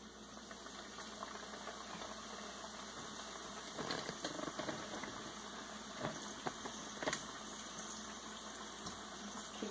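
Battered chicken frying in a pan of hot oil, a steady bubbling sizzle with crackling spurts that grows a little louder partway through.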